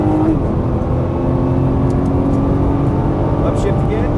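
A Nissan GT-R engine drones loud and close as the car accelerates on a track, its steady roar running continuously under a driving instructor's spoken coaching.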